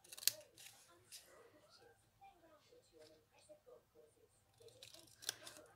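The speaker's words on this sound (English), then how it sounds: "You want to cut each side of the score lines and remove it completely." Scissors snip card along score lines during a Stampin' Up Easter bunny chocolate box build, sounding as soft, close clipping and rustling under a person's steady talk.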